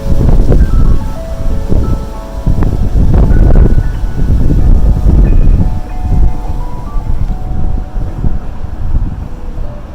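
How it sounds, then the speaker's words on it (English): Strong wind gusts blowing outdoors on a windy day in Michigan, loud and buffeting the microphone in uneven surges that ease off toward the end, with faint tonal sounds in the background. "Take a little mini break for the wind."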